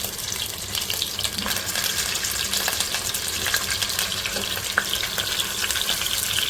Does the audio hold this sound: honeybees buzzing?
no